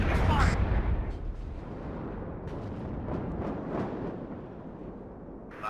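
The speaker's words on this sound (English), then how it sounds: "Enemy fire." Enemy gunfire in the WARNO video game: a loud burst of shots and booms at the start, then scattered distant gunfire and artillery-like thuds over a steady battlefield rumble, with voices faintly mixed in.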